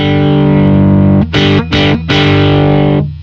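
An electric guitar blasts through an amp with the gain turned all the way up, aiming for a Van Halen brown sound. A loud, saturated sustained chord is broken by a few quick choppy stabs, then rings out.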